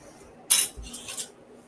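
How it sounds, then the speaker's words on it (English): Small metal stir sticks for hobby model painting clink together as they are handled, a sharp bright clatter followed by a couple of lighter jingles, close and brief in a quiet room. "That's just one of my little stir sticks."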